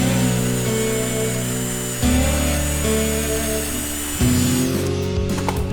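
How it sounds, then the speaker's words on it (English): Power wire brush scrubbing cast iron heads from a junkyard 6.0L LS engine, a loud whining grind with shifting pitch and two sharp jumps as the tool bears down, then easing near the end. "A little bit of the wire brush."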